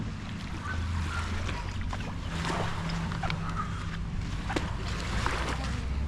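Boat engines idle in a low, steady rumble at a pier on Mae Haad Beach, Koh Tao, Thailand, with wind and lapping water around them and faint splashes now and then.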